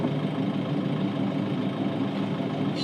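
A sailboat's inboard engine runs steadily in gear with a low, even drone, close and continuous with no voices.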